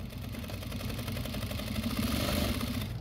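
Juki DDL-8700H industrial sewing machine running quietly and stitching at a steady, fast rhythm, a soft continuous whir with faint regular ticking close by.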